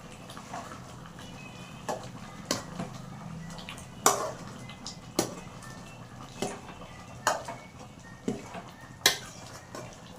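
A spoon stirs chicken curry in a pot, giving sharp metallic scrapes and knocks against the pot every second or so over a low background hum.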